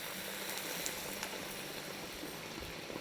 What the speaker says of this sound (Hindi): चले अब इसमें हम डाल देंगे पानी गलने के हिस्से का।